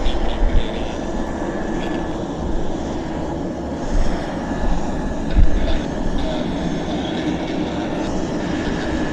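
A Q400 turboprop airliner's engines drone steadily on the runway at Vancouver Airport, a loud, continuous roar with slight swells and no talking.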